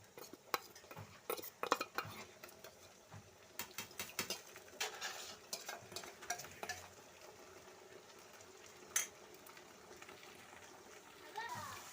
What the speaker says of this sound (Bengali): আদা রসুনটা দিয়ে একটুখানি ভালো করে নেড়ে নিচ্ছি